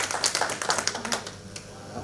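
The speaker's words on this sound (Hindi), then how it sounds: "अम्बिकेश ले ताली बजबाक चाही।" Audience applause at a Maithili poetry recital, a short burst of close, crisp claps that thins out and fades within about a second and a half.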